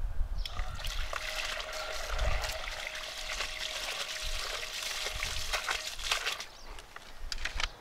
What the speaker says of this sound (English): So I have my pump and a bucket of water. I'll just put it in there and turn it on.